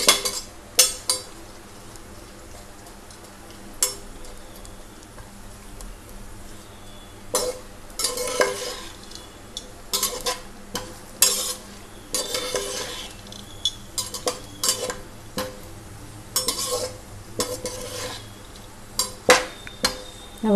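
Raisins and nuts fry in oil over a low flame, giving a soft, steady sizzle broken by frequent clinking spoon-on-pan stirring strokes that come in bursts over about twenty seconds, close and with no voices.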